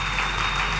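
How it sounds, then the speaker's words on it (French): A church congregation applauds in a dense, steady wash of clapping, loud and continuous through the short moment, with no break or voice standing out. "Acclamons très fort pour le roi de roi."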